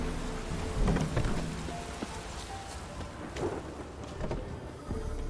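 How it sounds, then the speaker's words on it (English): Steady rain and rolling thunder in the video game The Witcher 3, a constant wash of rainfall with low rumbles swelling now and then, no voices. "Oh, it's drizzling."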